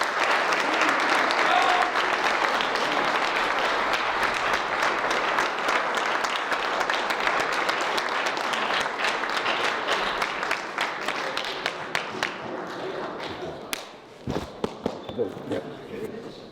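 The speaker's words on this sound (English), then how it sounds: "Clap it up for yourselves, guys." A large crowd applauds loudly and steadily for over ten seconds at a young men's leadership conference, then the clapping thins out into scattered claps with a few voices near the end.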